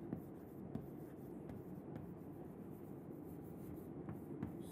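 Steady scratching of chalk or marker writing on a board during a lecture, a continuous quiet rubbing texture with small taps at stroke starts, close and without speech.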